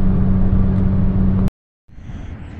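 A van's turbocharged engine pulls under about 4 PSI of boost with a loud, steady droning roar close by. The sound cuts off abruptly, then returns more faintly after a short silence.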